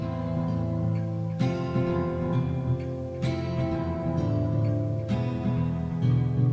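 A looping electronic tune from a Five Nights at Freddy's game plays at moderate volume, with steady synth tones and periodic percussive hits.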